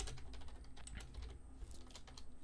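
Quiet, rapid typing on a computer keyboard, a close string of soft key clicks in irregular rhythm with no talking.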